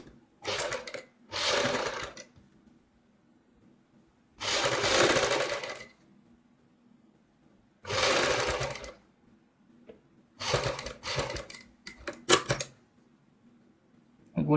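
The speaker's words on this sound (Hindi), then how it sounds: "किनारी की सिलाई लगानी है हमने।" Sewing machine running in several separate bursts while stitching the piping edge of a kameez neck, close and steady, with quiet pauses between runs.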